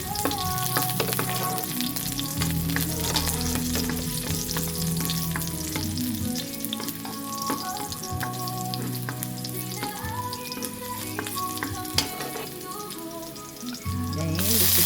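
Garlic sautéing in a pan as the base for chicken liver guisado, a steady close sizzle running throughout with scraping stir strokes over it and no one talking.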